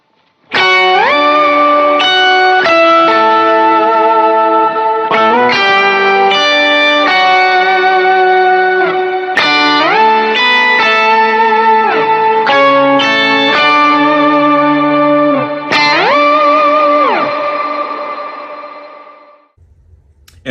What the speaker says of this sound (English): So here's my Octaver, and I'll also be using a small reverb.